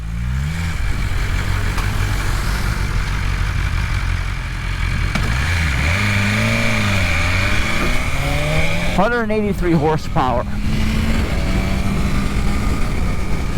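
A BMW S1000RR superbike engine on a dyno rises from a low rumble through climbing revs, with sharp high-pitched sweeps as the throttle blips, loud and close, then drops back to a steady hum.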